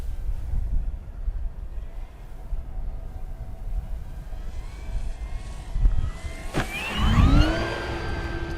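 An FMS T-28 1400mm RC airplane does a touch and go, its electric motor whining faintly at a distance at first, then rising sharply in pitch as it powers up and climbs away, with wind rumble underneath.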